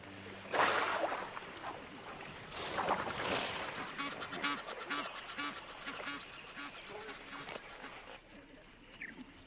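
Egyptian geese in a Botswana wetland give a few loud honking calls, then softer scattered calls and splashy rustling over a faint outdoor background.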